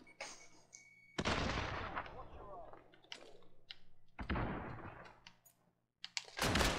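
Gunfire in a Call of Duty online gun fight: a few loud, sharp shot bursts spaced seconds apart, with quieter game sounds and voices in between.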